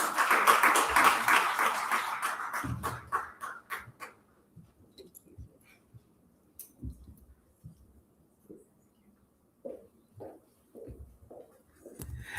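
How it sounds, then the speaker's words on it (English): An audience at a digital economy conference applauds briefly. A burst of clapping opens the scene and quickly dies away into scattered single claps and small knocks separated by near silence. "Another round of applause for Joy Mwangi."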